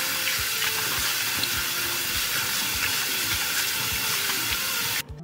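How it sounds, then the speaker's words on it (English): Running tap water streams steadily over strawberries in a sink, a continuous close hiss and splash that cuts off abruptly at the end. "After standing for 20 minutes, wash the strawberries under a stream of clean water."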